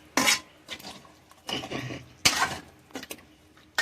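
Metal spoon scraping and clanking in a pot of dried salted sardine curry, with several separate bursts of stirring over a few seconds, fairly close and with no talking.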